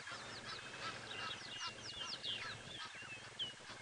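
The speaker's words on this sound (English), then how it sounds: "The Egyptian geese getting a bit worried as he flies over." Egyptian geese honk repeatedly in rapid, overlapping calls, fairly close, over a steady low outdoor background at sunrise on a safari drive, as a fish eagle flies over.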